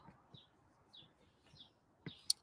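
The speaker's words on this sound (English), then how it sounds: "So listen to the birds, they're chirping." Birds chirp in short, faint high calls, spaced out near a blooming apple tree outdoors, with one brighter, sharper call near the end.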